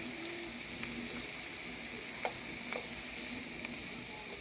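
Asparagus cooks in a pan alongside a honey lime chicken and sweet potato meal, giving a soft, continuous sizzle with a few small ticks and pops and no one talking.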